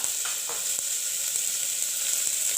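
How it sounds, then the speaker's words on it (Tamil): Onion, tomato and garlic sauté in a pan, giving a steady, loud sizzle throughout with a few faint stirring scrapes and no talking. "வெங்காயம் தக்காளி பூண்டை போட்டு வதக்கிக்கலாம் ஓகே இப்போ நல்லா வதக்கிட்டு வதங்கட்டும்"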